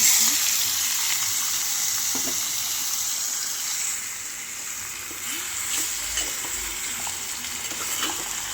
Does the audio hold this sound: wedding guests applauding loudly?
no